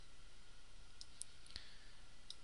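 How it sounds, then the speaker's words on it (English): A few soft, faint computer mouse clicks, spaced out over a low steady background hiss, as the plots button is pressed in statistics software. "So I go over here and click on the plots button."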